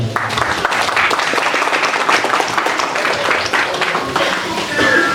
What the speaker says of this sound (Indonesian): Berikan aplaus kepada beliau.